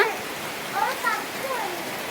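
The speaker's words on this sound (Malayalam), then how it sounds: "അപ്പം കണ്ടോ നല്ല മഴയാണ് കേട്ടോ" Heavy rain pours down in a steady, close hiss of drops on surfaces, with a faint voice briefly murmuring underneath.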